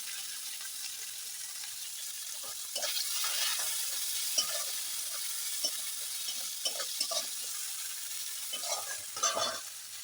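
Chopped onion and green chili fry in a pan with whole garam masala, a steady sizzle broken by several stirring scrapes and louder spatters, close and alone.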